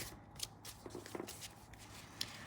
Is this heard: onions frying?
no